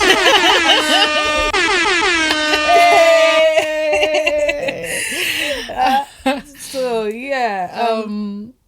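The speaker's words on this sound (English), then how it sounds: "Where's the air horn?" A loud blaring air horn sounds repeatedly, with laughter and voices mixing in toward the end.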